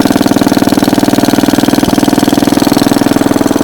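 A 1950s Bready model BW walk-behind tractor engine runs at idle after a cold start, a loud, close, steady single-cylinder chugging with a rapid, even pulse and one brief knock midway.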